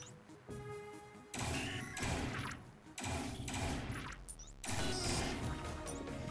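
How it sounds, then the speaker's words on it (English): Glass panes smash loudly in the top-down shooter Neon Chrome, three crashing bursts in quick succession with shards scattering between them. "Let's break the glass here and loot this stuff."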